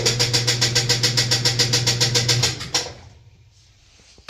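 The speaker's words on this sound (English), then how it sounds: "Not spinning, and that's the sound of the clutch spring." A washing machine with a faulty clutch spring and a drum that won't spin gives a loud, rapid rhythmic thumping hum for about two and a half seconds, then stops with a clunk and fades into quiet.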